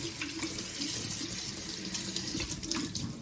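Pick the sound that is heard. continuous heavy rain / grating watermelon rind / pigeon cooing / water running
water running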